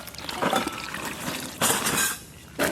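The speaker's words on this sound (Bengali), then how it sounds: "পাঁচমিশালি সবজিটা ভালো করে ধুয়ে নেব" Mixed vegetables, including potato, eggplant and pumpkin, washed in water at an outdoor village kitchen, with bursts of sloshing and pouring plus light clinks against a vessel, close and fairly loud.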